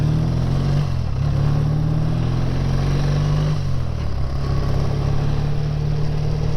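A classic BSA A10 650 twin motorcycle engine drones steadily while riding, with a continuous low throb and a slight dip and recovery in pitch, loud and close throughout with wind noise and no talking.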